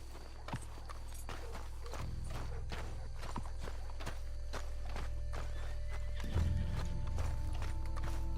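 Horses in Red Dead Redemption 2 clip-clop along at a steady walk, hooves thudding in a regular rhythm close by, with a neigh and snorts among the steps under a low background rumble.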